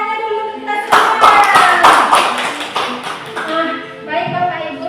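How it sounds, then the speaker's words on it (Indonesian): Audience clapping in a teachers' session, a few seconds of scattered hand claps that swell and fade, with voices around them. "Tepuk tangannya dulu kita semua"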